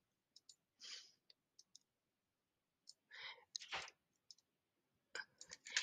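Soft, close computer mouse clicks tick out in scattered singles and pairs while a flyer is designed in Canva, mixed with quiet whispered breaths and rustles in a near-silent room.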